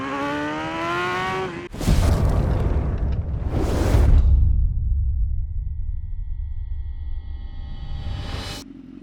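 A motorcycle on Bridgestone Battlax V02 racing tires winds up and roars past at high revs on a race track, loud and close, then fades as it pulls away before another rush of engine noise.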